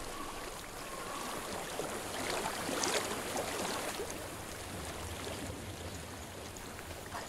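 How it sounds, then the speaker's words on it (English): A flowing stream rushes in a continuous, even wash of water with a slight swell midway, with no voices over it. "What do you hear? Water. I hear water."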